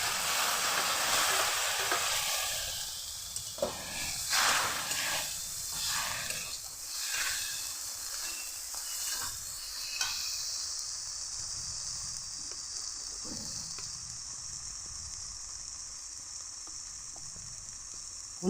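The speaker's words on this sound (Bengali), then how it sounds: "ভালো করে কষিয়ে নিচ্ছি।" A paste of ground black and white mustard, chili paste and turmeric sizzles steadily while being sautéed in a pan, with a continuous close frying hiss and occasional stirring scrapes throughout.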